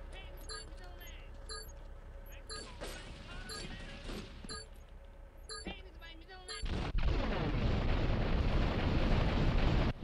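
A planted bomb detonates in the video game GTA 3. Sparse electronic game tones and small clicks come first, then a sudden loud blast breaks into a sustained, rumbling roar that fills the rest of the moment.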